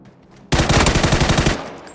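Machine gun fire in a video game: a single sustained burst of rapid, loud, evenly spaced shots lasting about a second, starting abruptly and cutting off into quieter ambience.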